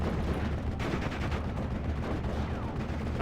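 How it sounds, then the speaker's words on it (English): Mortar blasts and gunfire rumble in a WWII strategy video game battle, with dense, continuous low booms and crackling shots that sound distant and muffled. "We got mortars hitting this Nueve."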